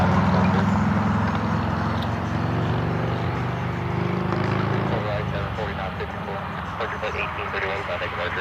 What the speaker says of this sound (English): Frontier 1831 A320neo heading to Tampa.